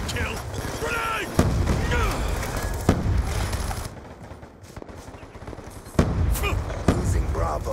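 A grenade blasts amid a Black Ops 2 video game match, a loud booming hit cutting through continuous machine-gun fire, with voices speaking over the battle noise.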